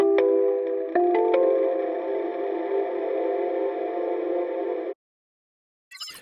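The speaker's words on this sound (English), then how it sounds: "Next is Valhalla's Supermassive. This is another echo plugin, but also can be used for just some really lush pad sounds" Long, lush reverb from the free Valhalla Supermassive plugin on a sustained synth chord, with a few plucked notes stacking in early before the wash cuts off abruptly near five seconds, then a brief new sound.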